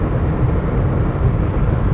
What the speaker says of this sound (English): The tires are a bit noisy.